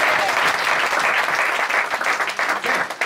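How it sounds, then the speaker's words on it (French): A congregation gives a round of applause during a church sermon, dense steady clapping filling the room for a few seconds, with no speech over it. "Donnons une acclamation."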